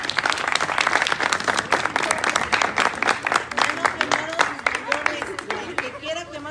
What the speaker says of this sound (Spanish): Viene una ofrenda de palmas a Dios.